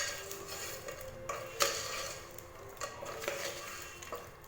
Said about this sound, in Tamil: இப்போ இது எல்லாத்தையும் சேர்த்து நல்லா மிக்ஸ் பண்ணி விட்டுக்கோங்க